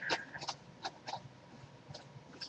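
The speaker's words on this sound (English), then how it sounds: "I got cats meowing, but the dogs aren't barking" Several house cats meow in short, faint, scattered calls in a quiet indoor room, each cry brief and separated by small gaps, with no dogs barking.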